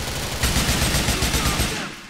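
Rapid bursts of automatic gunfire in Grand Theft Auto IV, a dense, loud stream of shots with a rattling rhythm through most of the stretch, fading near the end.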